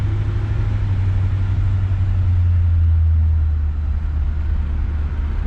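A 1966 Ford Galaxie 500 convertible, not yet warmed up, drives along the road with a steady, loud low engine rumble and continuous road noise, no voices.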